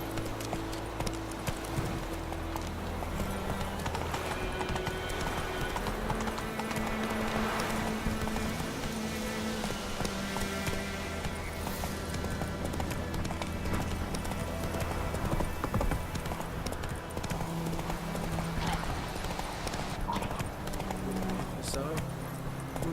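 Hoofbeats of Roach, Geralt's horse in The Witcher 3: Wild Hunt, pound steadily throughout the gallop, mixed with game music and ambient sound, while voices talk over the top.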